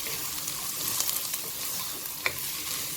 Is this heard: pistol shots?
no